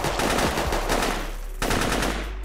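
Dense, continuous automatic gunfire from the isometric tactical shooter Operation Valor, loud and close, rattling steadily for a few seconds with a brief break before firing resumes, with no talking.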